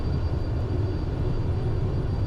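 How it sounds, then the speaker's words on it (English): Twin-engine airplane at full takeoff power on the runway, bound for North Eleuthera in the Bahamas: a steady, heavy low engine roar with constant drone, close and loud, no voices. "Take off, power set, achieved, 2 good engines, airspeeds are alive both sides."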